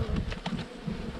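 Honey bees hum steadily around an open hive on a warm, summery day, a dense, continuous buzz with no voices.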